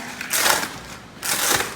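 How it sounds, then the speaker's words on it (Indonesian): Washed, roasted eggshells in a plastic bag crunch under a stomping foot in two loud, close bursts of crackling and crushing, with a short pause between them. "cangkang telur dimasukkan ke dalam plastik dan saya injak-injak"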